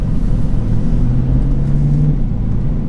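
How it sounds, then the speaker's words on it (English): A twin-turbo C8 Corvette in sport mode gives a loud, close, steady low engine drone with a rising tone while driving. "So I'm just gonna go drive it."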